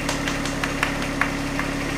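Tractor engine idling close by, a steady low rumble with a rhythmic knocking pulse throughout, no voices over it.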